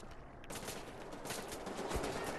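Sustained gunfire from a firefight in the shooter Wolfenstein: The New Order, with dense overlapping shots running throughout at a steady, loud level and no talk.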